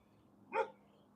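A dog barks once through a fence, a single short, moderately loud bark rising out of quiet background hum.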